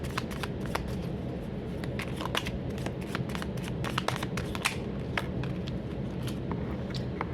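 Tarot cards shuffled by hand to draw a card, a steady close riffling and sliding with crisp flicks throughout, alone without talk.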